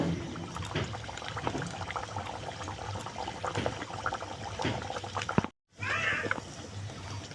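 Luchi, a puffed fried flatbread, in hot oil, giving a continuous bubbling sizzle with scattered crackles. It drops out abruptly for a moment, then the sizzle returns.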